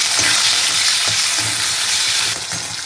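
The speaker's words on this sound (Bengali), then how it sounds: "মাছে আলুটাও ভাজা হয়ে গেছে এদিকে। এবার টমেটো কুচিটা দিয়ে দেবো" Fish and potato pieces frying in a pan as chopped tomato goes in, a loud, close, continuous sizzle broken by a few stirring scrapes.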